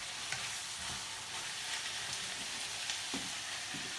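Mince, onion and garlic fry in a pan for chilli, giving a steady soft sizzle at low volume with occasional faint stirring scrapes and no voices.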